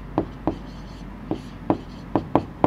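Pen tapping and scratching on paper during a coordinate geometry maths lesson, a series of sharp close ticks at uneven intervals in an otherwise quiet room.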